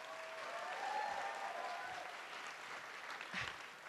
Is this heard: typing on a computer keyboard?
no